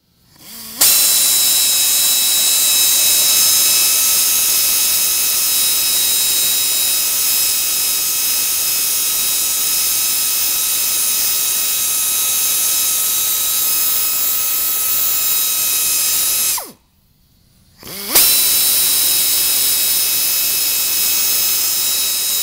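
Power sander grinding the old coating off a car headlight during a 3M restoration, a loud steady high-pitched whine running continuously, cutting out briefly near the end before starting up again.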